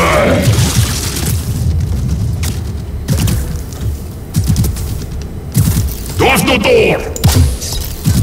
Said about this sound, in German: wir explodieren nacheinander